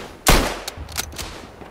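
Gunfire in the WW1 shooter Tannenberg: one loud close shot followed by several quieter scattered shots trailing off over a second and a half.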